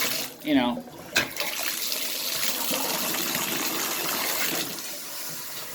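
Water runs from a bathtub diverter faucet into a sink, a steady close rushing stream that holds on through the clip and drops off near the end, with a brief voice sound at the start.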